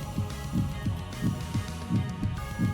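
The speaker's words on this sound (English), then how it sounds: "the sound of my heart pounding" A deep, muffled heartbeat thuds steadily in paired lub-dub pulses, about five beats in quick succession, close and throbbing over a low hum.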